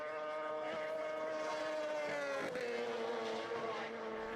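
A twin-engine racing sidecar at the Sidecar TT screams past at high revs, its pitch dropping sharply mid-pass as it goes by, loud and close with a continuous whine.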